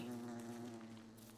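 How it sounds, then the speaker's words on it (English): Killer bees in the video game Don't Starve Together give off a steady, loud insect buzz with a drone, holding throughout and easing slightly toward the end. "killer bees."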